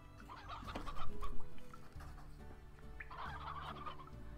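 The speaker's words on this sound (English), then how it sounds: "chickens are all over the place." Chickens in the video game Slime Rancher gobble and cluck in two short bursts, fairly loud and close, with a low background hum and no talking.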